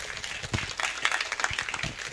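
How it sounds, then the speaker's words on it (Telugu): Audience applause at the close of a church sermon, a burst of many hands clapping at moderate distance, uneven and fairly faint with a few louder claps standing out. "అందరం గట్టిగా చప్పట్లు కొడదామండి."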